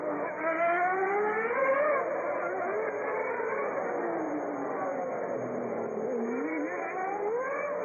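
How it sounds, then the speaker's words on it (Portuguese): Ayrton Senna's Formula 1 car at the 1991 Monaco Grand Prix, a high, tinny engine wail that swoops up and down in pitch as it passes and stays loud throughout, with no voices over it. "Esse é o barulho do carro de Ayrton Senna"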